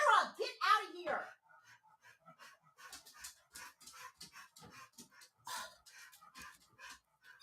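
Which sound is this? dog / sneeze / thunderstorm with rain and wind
dog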